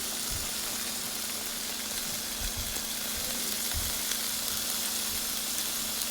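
Chicken fries steadily in a pan, a continuous broadband sizzle with a faint low hum beneath and occasional soft pops and clicks throughout, close and unbroken, with no talking.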